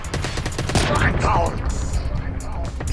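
Call of Duty Mobile gunfire on the Firing Range map in Search and Destroy, rapid dense bursts of shots sounding close and loud throughout, with game sounds layered over them.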